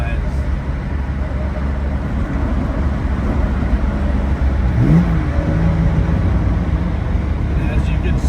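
1962 Aston Martin DB4 Series IV driving along a road, a steady loud engine drone with a brief rising tone midway, heard from inside the car with people talking over it.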